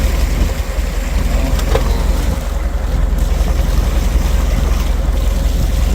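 A trawler engine running on a river after overheating, a loud continuous low drone with wind and water rushing over it.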